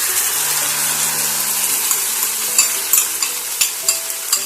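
Egg chilli sizzling loudly in a pan over a lowered flame as a sauce slurry is poured in, a dense steady hiss with a few sharp spatters and ladle knocks near the end.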